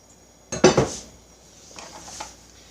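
A utensil stirs a water slurry in a dish for a gluten-free creamy potato dumpling soup, with a sharp cluster of clinks and scrapes, then softer scraping that trails off, close and alone.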